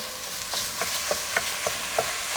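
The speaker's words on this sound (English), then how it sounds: "I can just throw the onion in and the garlic. I'm gonna let that saute a tiny bit" Sausage, onion and garlic sautéing in a pan, a continuous sizzle punctuated by rhythmic stirring taps, close and moderately loud.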